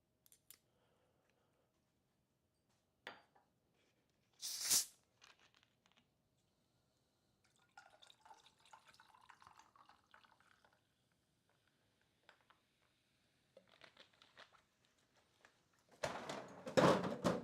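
Small drips and liquid sounds from saline solution and lavender bitters going into a drink, faint and sparse in a quiet room, with a louder clink or splash near the end.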